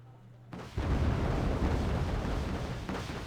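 Bombs dropped in the real-time strategy game Wargame: Red Dragon hit after a brief quiet lead-in, bursting into a loud, sustained rolling roar of blasts and rumble that keeps churning to the end.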